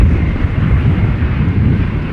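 Broadband jet roar of a German Airways Embraer 190 airliner operating a KLM flight at Schiphol Airport, loud and steady throughout with rumbling low end and no pauses.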